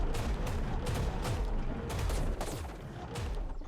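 Cannon fire in ARK: Survival Evolved, a rapid run of booming blasts about twice a second, loud and close, with no break across the stretch.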